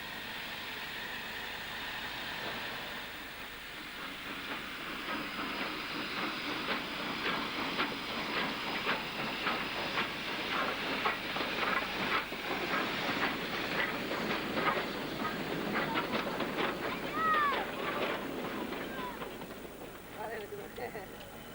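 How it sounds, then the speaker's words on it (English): Run-down, neglected old railway engines in Pakistan working along the line, a steady rhythmic rumble and clatter of the train with a faint whistle-like squeal near the end, running beneath continuous narration. "These engines struggle on bravely despite their run-down and neglected condition."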